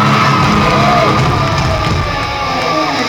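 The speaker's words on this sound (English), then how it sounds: "most of you cheered" An audience at a concert cheers and whoops loudly. The dense crowd roar holds steady for the whole moment, with no single voice standing out.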